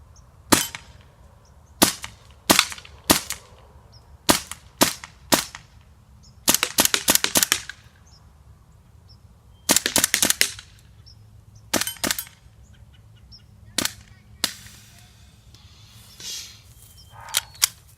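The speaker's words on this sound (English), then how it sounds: "we're going to find out if I shoot and this pistol shoots like a German stormtrooper" Umarex Legends P08 Luger blowback air pistol firing a long string of sharp, snappy shots, singly and in quick bursts of several, each crack clear and close with brief quiet gaps between.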